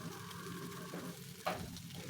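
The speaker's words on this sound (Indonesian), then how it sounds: "Lalu kita tumis pelan-pelan agar tidak hancur." Fish being gently stir-fried in an oiled pan at home, giving a steady soft sizzle with light scraping and stirring and a brief louder clatter near the end.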